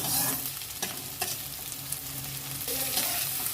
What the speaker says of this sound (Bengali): গাজরটা একটু ভালো করে ভেজে নেবো পেঁয়াজের সঙ্গে।